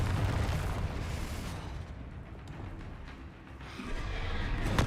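Bombarda and Confringo explosion spells going off in Hogwarts Legacy, a sustained rumbling blast with a deep boom that fades midway and then swells again, loud and with no speech.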